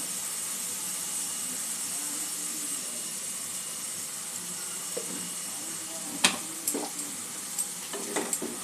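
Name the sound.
onion, ginger and garlic frying with spices while stirred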